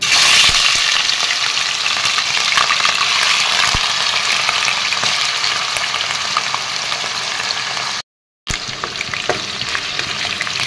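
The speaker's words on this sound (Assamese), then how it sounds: "এতিয়া ইয়াতে মই মাংসখিনি দি দিম" Chicken meat hits hot oil in a kadai wok, giving a loud, continuous crackling sizzle with faint stirring scrapes, broken by one short silent gap near the end before the frying resumes.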